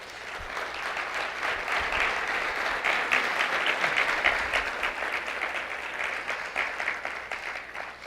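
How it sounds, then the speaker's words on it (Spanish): A church congregation claps loudly in praise, a broad, swelling roar of many hands that builds, holds steady for several seconds, then gradually tapers off. "Dale palmas fuerte a Él"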